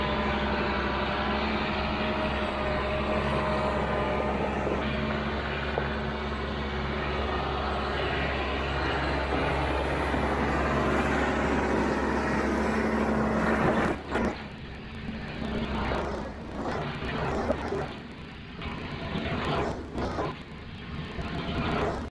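Heavy equipment grades a gravel driveway: a loud, steady diesel engine drone runs close by, then shifts into uneven revving surges with scraping and rattling as the machine works the gravel.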